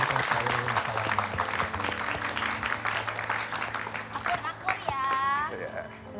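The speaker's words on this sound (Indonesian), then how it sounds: "Tepuk tangan boleh Mas" Studio audience clapping on an Indonesian television show, a busy spread of hand claps mixed with talk and background music, fairly close and steady before fading slightly near the end.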